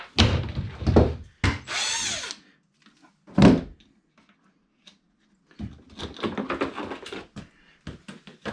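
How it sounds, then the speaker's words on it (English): A power drill backs screws out of the hull rail of a V8-powered jet ski. Short whirring bursts of the drill alternate with knocks and handling clunks, recorded close up, with quiet gaps and no speech. "these are all just screws along the rail here, so I can pull these screws out and then these pieces will come off"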